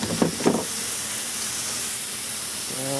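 A garden hose sprays water onto a table while a squirrel is field dressed outdoors, giving a steady, close hiss after a couple of brief knocks at the start.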